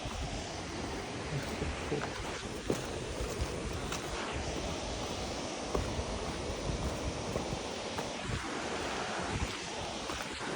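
A steady, rushing roar of Kuntala waterfall fills the scene, constant and broad, with faint gusts of wind and no voices.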